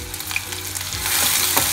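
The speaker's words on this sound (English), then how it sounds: "Next goes in our onions and chilies. Let it fry nicely." Onions and chilies fry in hot oil with cumin seeds, a close crackling sizzle with scattered pops and stirring scrapes that grows slightly louder toward the end.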